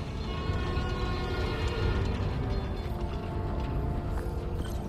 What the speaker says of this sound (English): Come on, trusty New York subway.